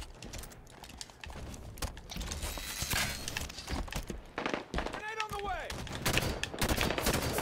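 Gunfire in Halo 5 Big Team Battle multiplayer, dense rapid shots and bursts with in-game effects layered throughout, loud and busy with no clear pause.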